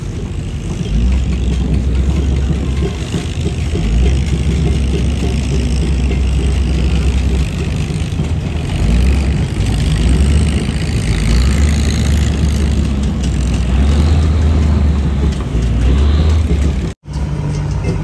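A fishing boat's engine drones steadily at sea during a Nam Hai whale-worship festival procession, a loud low rumble with wind noise, continuous and close, dipping briefly near the end.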